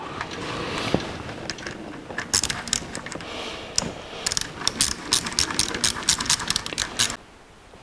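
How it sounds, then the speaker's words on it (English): Hose clamps being tightened on the cooling system of a 1949 Chevrolet gasser, heard as a run of close, quick metallic ratcheting clicks that grow denser toward the end before stopping abruptly. "And tighten some clamps down."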